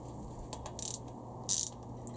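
A ratchet briefly clicks twice while tightening the cam belt tensioner bolt on a Honda Civic B18C4 engine, quiet short bursts of ratcheting over a faint steady hum.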